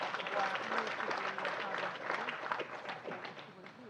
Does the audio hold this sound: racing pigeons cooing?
no